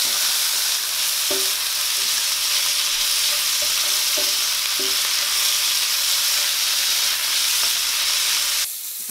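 Bacon slices fry in a pan with a steady, even sizzle and hiss, punctuated by a few faint pops and stirring clicks, close and continuous until a brief change near the end.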